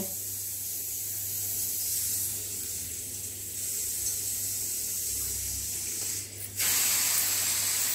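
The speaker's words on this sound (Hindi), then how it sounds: "सीटी बज रही है मेरी कुकर की" A pressure cooker vents a loud, steady hiss of escaping steam that shifts in tone and briefly surges near the end.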